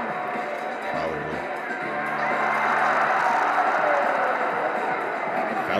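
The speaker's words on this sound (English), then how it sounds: "Crowd's so loud." Loud crowd cheering and roaring at a Red Bull BC One breakdance battle semi-final, a dense continuous wash of voices that swells louder midway and stays sustained to the end.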